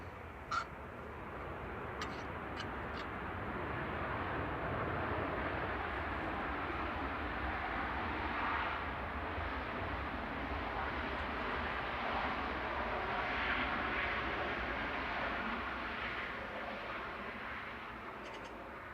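A Malta Air Boeing 737-800 arriving from Beziers at Manchester Airport gives a steady, broad jet roar that holds loud and even for the whole stretch, with a few faint bird calls on top.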